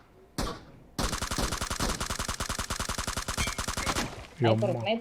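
Rapid sniper and automatic gunfire from a PUBG/BGMI battle-royale match rattles out as a dense, loud burst of repeated shots for about three seconds after a brief single report, with a voice starting at the end.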